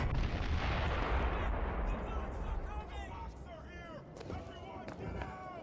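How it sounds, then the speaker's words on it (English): Heavy explosions rumble from upstairs in BioShock Infinite, a deep, loud booming roar that fades into a lower rumble with sharper bursts, while a voice speaks over it. "I hear some explosions upstairs."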